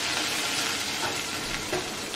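Chillies and salt are stirred together in a hot pan, giving a steady close sizzle with faint scraping of the spoon through the mixture, no voices heard.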